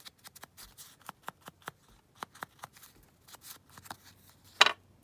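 Scissors snip along the edge of a paper napkin craft piece, a quick run of sharp, close cuts spaced unevenly, ending in a louder rustle of handled paper.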